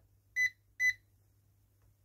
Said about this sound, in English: you can see that it's beeping quite slowly